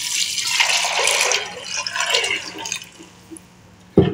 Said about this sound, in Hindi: तो ये पानी मैंने डाल दिया है।